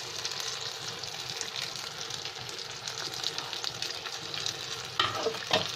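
Spice powders of Kashmiri red chili, turmeric, coriander and garam masala frying in oil for bagara baingan curry, a steady close sizzle with a few sharper crackles and stirring scrapes near the end.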